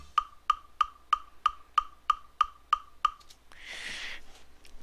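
The Moonscraper charting software's metronome clicks on every beat of a song, ten sharp, evenly spaced ticks in a steady rhythm, followed by a brief burst of noisy sound.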